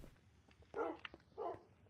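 Tamed dogs in the video game Minecraft being fed fish, giving two short, close yipping barks with quiet gaps of game ambience between them.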